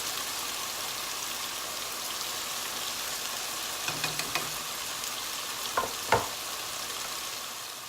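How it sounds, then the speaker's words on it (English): Pork loin steaks fry in a pan with a steady, close hiss and crackle throughout, with a few sharp clatters as they are moved or turned near the end. "fry off these pork loins. Just cook it through and then we'll take it off the heat."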